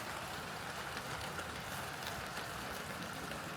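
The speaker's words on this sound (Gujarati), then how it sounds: "બહુ વરસાદ આવે છે." Heavy rain pouring down steadily outdoors near a vegetable patch, a dense, even hiss of drops on surfaces with no break over a few seconds.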